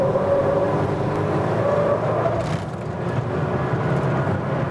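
An Ariel Nomad on a race circuit drones loudly and steadily under throttle, a close continuous engine roar with wind and road noise and no clear change in pitch.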